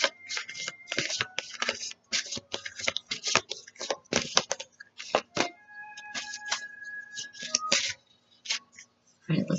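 A Goddess Oracle card deck is shuffled by hand in quick riffling bursts with brief pauses, crisp papery flutters close to the microphone, with soft speech faintly underneath.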